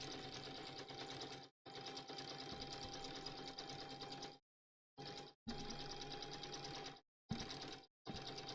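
A sewing machine stitching in several runs of steady whirring and needle clatter broken by short stops, quiet but clear, with no one speaking.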